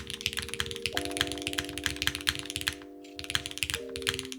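Rapid typing clatters on a Haven60 mechanical keyboard with its screws loosened, a dense run of close, crisp keystrokes and thocks while a steady musical tone hums underneath.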